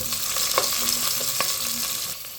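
Garlic and onion sautéing in a pan as the base for pork spare rib sinigang, a loud steady hissing sizzle with a few light clinks and stirring scrapes, close by and without talking.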